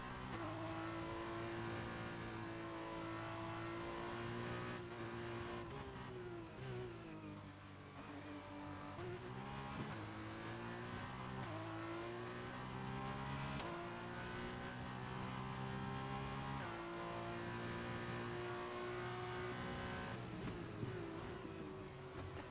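Formula 2 race cars in an F1 game at Bahrain hold steady high-pitched engine notes, with repeated upshifts and downshifts as they circle the track, loud and continuous.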